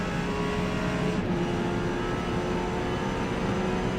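A Mustang race car in the Forza Motorsport racing game roars past with a steady, loud engine drone that holds throughout, continuous mechanical tone with no pauses.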